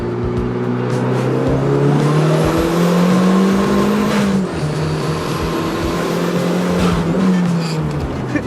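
Turbocharged engine of a rebuilt Mazda Miata revving and accelerating nearby, a loud sustained drone rising and falling in pitch with a faint turbo whistle, no talk.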